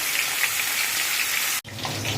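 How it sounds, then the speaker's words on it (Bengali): Potatoes fry in hot oil in a pan, giving a steady, close hiss like light rain that breaks off in a brief gap before the sizzle resumes. "আর এই যে আলুটা ভাজছি"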